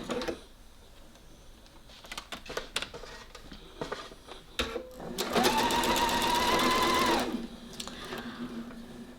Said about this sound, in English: I'm going to go to the sewing machine and use a tacking stitch to hold those 2 pleats on either side in place.